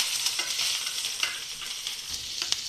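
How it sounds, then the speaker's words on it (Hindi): Chopped onion and capsicum fry in hot refined oil, producing a dense, continuous close-up sizzle with light crackles and brief stirring scrapes throughout. "प्याज और शिमला मिर्च को अच्छे से फ्राई करना"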